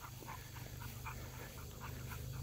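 A dog recovering from poor coordination and balance whimpers softly and pants in short rhythmic breaths, quiet and close over a low steady background hum.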